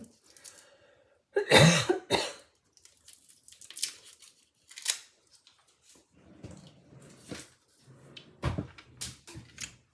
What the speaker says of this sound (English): I had the coughs earlier today too